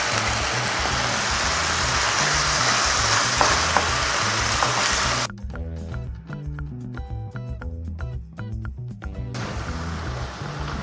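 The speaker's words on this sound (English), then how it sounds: "So we just have a hot cast iron skillet, and then we'll just put some oil in there." Beef bulgogi frying in oil in a hot cast iron skillet: loud, dense sizzling for several seconds, then a quieter crackle broken by scraping and stirring clatter, with no talking.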